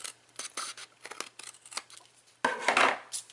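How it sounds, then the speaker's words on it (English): Scissors trim the side of a paper Christmas card with a lighted Bethlehem scene, giving a run of close, crisp snips and a louder, longer cut near the end, with no talking. "I'm just going to move that over and just trim right on up the side."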